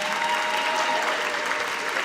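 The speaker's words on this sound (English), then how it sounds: "You deserve a round of applause as well." Audience applause at a volunteer-recognition speech, a steady dense wash of many hands clapping that holds evenly for the full stretch without a break.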